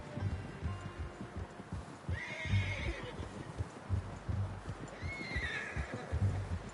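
Hooves clip-clop in a steady rhythm as a horse neighs twice in the video game Red Dead Redemption 2, a shrill whinny each time over the trotting.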